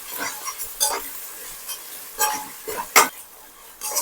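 Ginger garlic paste being mixed into a prawn biryani base in a pot, soft scraping stirs and light clinks over a faint sizzle, occasional muffled sounds.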